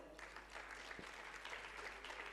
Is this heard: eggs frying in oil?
no